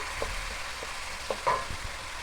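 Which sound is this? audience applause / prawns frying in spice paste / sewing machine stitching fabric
prawns frying in spice paste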